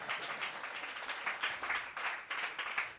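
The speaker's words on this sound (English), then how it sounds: "Give yourself a round of applause." An audience at a sales workshop gives a round of applause, with dense, steady clapping that pulses in waves throughout.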